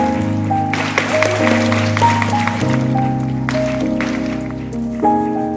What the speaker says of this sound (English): Guys, you can applaud them.